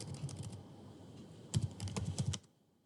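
Someone types ABAP code on a computer keyboard, with quick clustered keystrokes close up: a short burst at the start, a pause, then a denser flurry before the tapping stops.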